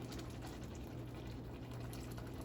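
Thickening slurry poured into a simmering pot of chicken and dumplings, a soft, steady liquid splash and bubbling hiss, faint and continuous with no voices.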